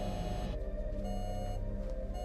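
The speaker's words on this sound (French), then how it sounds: "Cette alarme est celle du train d'atterrissage et elle continue de sonner." Landing gear warning alarm sounding continuously in a Turkish Airlines cockpit on approach, a steady tonal warning with stacked harmonics held throughout over a low cockpit hum.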